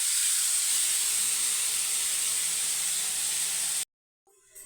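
Prawns and fish sautéing together in a pan with tomato: a loud, steady sizzling hiss carries on evenly, then cuts off abruptly near the end, leaving a brief faint rustle.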